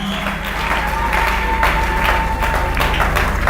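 A church congregation applauds for the Lord, a thick wash of clapping mixed with crowd noise and a low sustained hum, loud and continuous, with faint voices within it.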